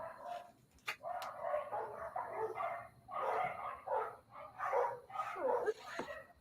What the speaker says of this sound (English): I got every dog in the neighborhood barking